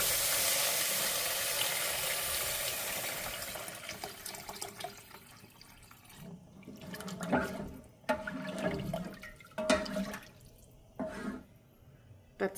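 Water runs into a cooking pot for a budget chicken bouillon and tomato base; a strong rushing pour fades into short splashes and intermittent trickles, with no talking.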